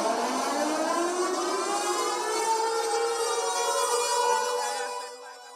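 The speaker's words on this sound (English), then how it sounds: "The chilling wail of the warning sirens this morning in Banda Aceh in northern Indonesia" Civil defense tsunami warning sirens wail steadily across Banda Aceh in northern Indonesia, a loud layered drone of overlapping rising tones that holds for several seconds before fading near the end.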